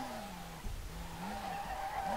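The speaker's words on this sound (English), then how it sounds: "The car does drift nice, man." A car drifts in the racing game SLRR, its tires squealing in a steady, wavering whine over a low engine drone, moderately loud and continuous without talk.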